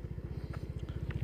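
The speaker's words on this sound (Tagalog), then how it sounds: "tingnan natin kung ilang seconds bago mamatay yung makina" A Yamaha Mio i 125 scooter engine running at a low idle just before shutting down, a faint rapid pulsing putter close by.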